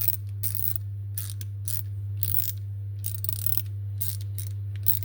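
A Parkside swivel-head ratchet spanner clicking in quick, irregular bursts of close metallic ticks, over a steady low electrical hum.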